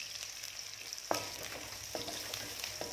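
Shredded cabbage deep-fries in hot oil until crispy, a steady soft sizzle with a few faint utensil taps against the pan.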